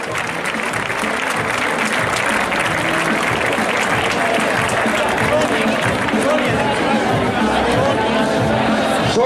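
Loud, sustained applause from a crowd at the Fuentealta trail race start, dense clapping mixed with chatter and cheers that keeps going without a break.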